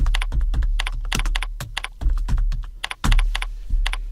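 Someone types a text label on a computer keyboard in ArchiCAD, producing a close, steady run of clicky keystrokes with brief pauses between bursts.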